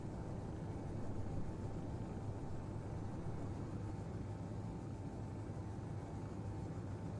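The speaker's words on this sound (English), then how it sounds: "I love this plane." A plane flying in Space Engineers, a steady low engine drone with a faint constant whine above it, continuous and even, with no talk.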